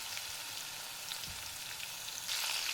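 Garlic and cumin seeds fry steadily in hot oil with mustard seeds for a masala bhindi, giving a continuous close crackling sizzle that swells louder near the end, with no voices.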